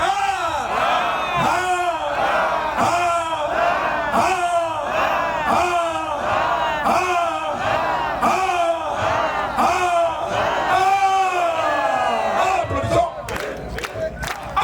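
A crowd at a celebratory thanksgiving gathering chants and acclaims in loud rhythmic unison, repeated swelling shouts about once per second, ending in a burst of clapping and cheers.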